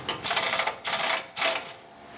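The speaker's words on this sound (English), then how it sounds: "we're just loosening the bolts for the pumpkin" Three close ratcheting bursts from a wrench loosening the differential pumpkin bolts on a 2006 GMC Sierra 2500, each a rapid clicking buzz about half a second long.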